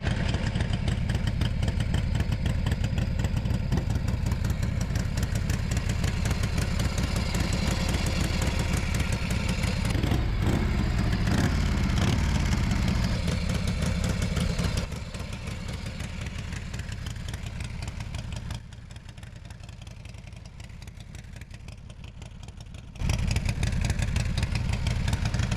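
A Harley-Davidson chopper engine runs rough and loud close by, a dense low rumble that drops in level partway through, nearly fades, then returns at full strength.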